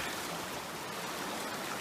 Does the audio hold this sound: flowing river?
yes